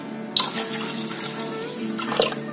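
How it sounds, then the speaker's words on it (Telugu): Water pours into an Instant Pot holding millet pongal (bajra khichdi), making a continuous splashing, gurgling flow with a couple of louder splashes, close and alone without talk. "అలాగే దీంట్లో వాటర్ యాడ్ చేయాలి."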